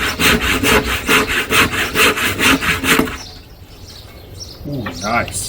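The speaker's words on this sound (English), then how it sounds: "Right, I need my handsaw now," A handsaw cuts through wood in a workshop with steady, rhythmic back-and-forth rasping strokes for about three seconds, then stops, leaving a quieter room with faint chirps in the background.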